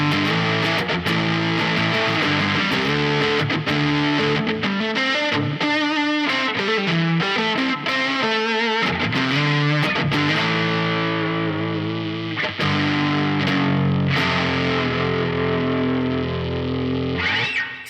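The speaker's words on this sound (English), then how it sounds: "And then if we try a rat distortion," Strat-copy electric guitar on the bridge pickup through a RAT distortion pedal, playing a continuous, loud, heavily distorted riff of chords and quick notes for the whole stretch, with no talking.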